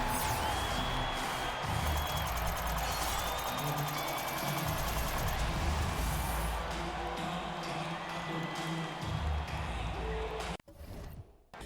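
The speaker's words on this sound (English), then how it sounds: "So the home crowd happy here as they get the victory" A roaring home crowd cheers in a basketball video game after a victory, a dense, steady wall of noise that holds for about ten seconds before cutting off abruptly near the end.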